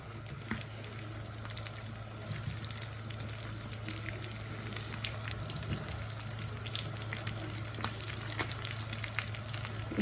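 Chicken pieces fry in hot oil, giving a steady, close sizzle and crackle with occasional sharper pops over a low background hum throughout.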